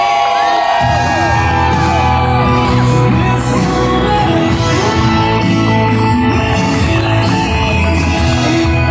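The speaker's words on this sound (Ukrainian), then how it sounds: "я попрошу вашими оваціями зустріти нашого нареченого Микола під" Wedding guests greet the groom with loud sustained cheering, shouts and applause from a close crowd, with music playing underneath throughout.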